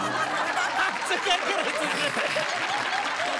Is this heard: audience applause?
yes